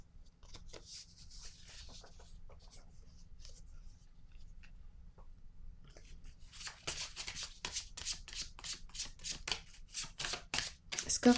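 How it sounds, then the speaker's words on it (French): Tarot cards handled and laid down one by one, giving soft slides and crisp flicking snaps that grow louder and denser toward the end, near and close-miked, with no talk. "je vais déposer une carte sur celle-ci"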